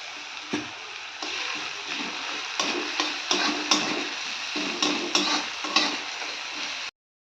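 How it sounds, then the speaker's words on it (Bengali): Onion and garlic frying in a pan, with a steady broadband sizzle that keeps going throughout and periodic stirring scrapes and clicks from a spatula, close and fairly loud before the sound cuts off abruptly near the end. "পেঁয়াজটা ভাজতে দিয়েছি আর এই যে রসুন"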